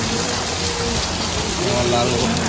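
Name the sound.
rain falling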